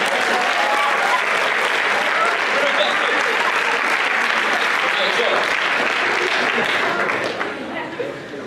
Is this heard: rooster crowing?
no